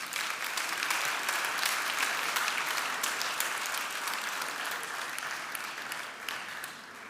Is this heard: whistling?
no